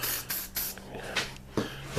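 A spray can laying a first coat of paint on a Jet Star 3 part: close, hissing bursts in short repeated passes with brief pauses between them.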